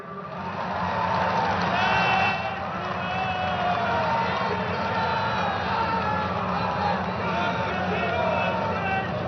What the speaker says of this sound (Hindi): तालियों का जय घोष रुकना नहीं चाहिए।